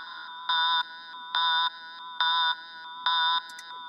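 Delay Lama synth line processed with OTT compression, an equalizer and triple delay: four evenly spaced bright, bell-like tonal pulses with a quieter sustained layer between them, clean and alone.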